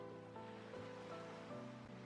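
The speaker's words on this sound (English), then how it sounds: "If you listen closely to the sound of the waves washing over the beach" Waves wash over a beach in the NU Carnival video game, a soft continuous surf wash under faint layered musical tones, fairly quiet and with no talk.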